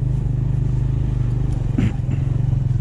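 A motorcycle engine on a mountain road through Baboon Valley in Kashmir chugs steadily and near with an even, rapid pulsing. It lifts briefly about two thirds of the way through, then cuts off at the end.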